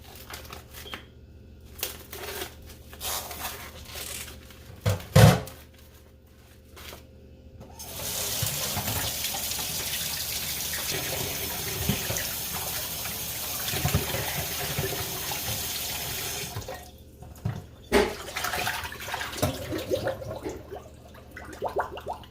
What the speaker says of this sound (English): This is the beef oxtail. So I'm going to wash it now.